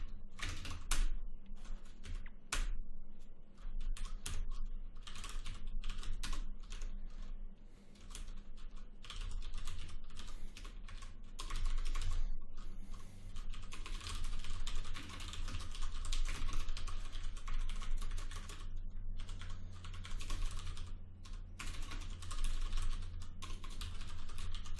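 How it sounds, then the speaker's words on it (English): Rapid, continuous typing on a computer keyboard while coding a game during a 48-hour game jam, keys clattering in irregular bursts with brief pauses, close and alone. "I just can't be bothered typing out a for loop"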